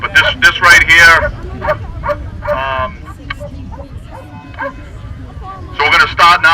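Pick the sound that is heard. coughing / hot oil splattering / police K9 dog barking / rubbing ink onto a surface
police K9 dog barking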